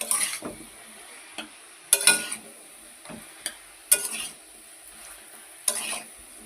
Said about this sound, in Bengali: তারপরে ভালো করে সবজিটা নাড়াবো।